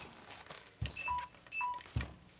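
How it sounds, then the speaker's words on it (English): A phone rings during a workbench build, giving repeated short electronic tones in a beeping pattern over light background noise and a couple of dull knocks. "oh, there's my phone."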